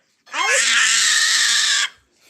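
A child lets out a single loud, sustained high-pitched scream lasting over a second, close to the microphone, then stops abruptly.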